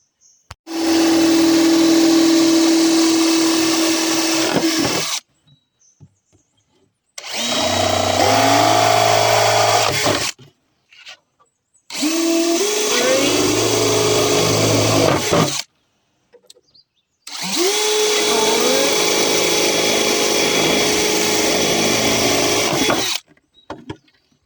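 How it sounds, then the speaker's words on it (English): A power drill bores holes into a plastic jug for a self-watering planter bucket, four loud whining bursts of several seconds each with short quiet gaps between them, the motor note shifting as each bit cuts through. "This is all places you're going to drill. 8 of them."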